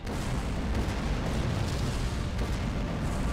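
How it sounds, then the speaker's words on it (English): A loud, sustained explosion of the pulverizer in the MapleStory video game, a dense rumbling roar with scattered crackling bursts that stays steady and powerful for the whole stretch, with no voices. "We were knocked out again because of the explosion"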